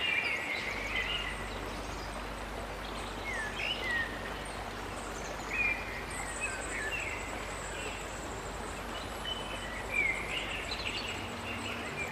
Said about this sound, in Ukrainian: на зворотньому шляху струмок здається іншим, бурхливішим, повноводнішим.